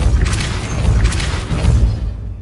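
A Depulso spell cast in Hogwarts Legacy gives loud, booming magical bursts with a whooshing rush, rising in a few surges across a couple of seconds over a steady low rumble.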